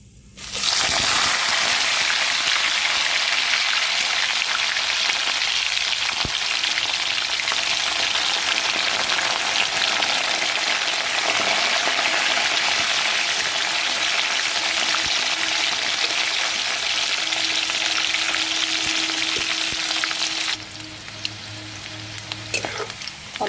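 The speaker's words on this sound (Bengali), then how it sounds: "এবার করলাটাকে ভাজবো" Sliced bitter gourd fries in hot oil in a pan for a Bengali shukto, a loud, steady, close sizzle that runs unbroken for about twenty seconds before easing slightly near the end.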